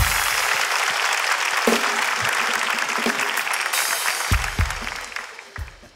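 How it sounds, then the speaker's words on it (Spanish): Studio audience applause for two guests on a Peruvian comedy talk show, a dense steady clapping that holds for several seconds and then thins and fades out toward the end, with a few sharp bumps along the way. "Un fuerte aplauso para ellas"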